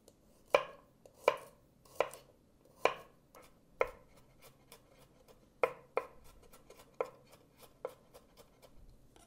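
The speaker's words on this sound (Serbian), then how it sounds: "iseckaću 2 čena belog luka sitno" A knife finely chops two garlic cloves in a series of about a dozen crisp, close knocks on a board. The pace is slightly uneven, with quiet gaps between the cuts and no voices.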